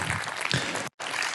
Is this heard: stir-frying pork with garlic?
no